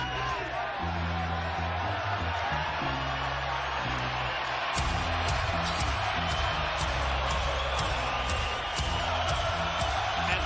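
Boxing arena crowd cheering for middleweight Gennady Golovkin, a steady loud roar of many voices with scattered whoops, filling the space continuously beneath a commentator's voice.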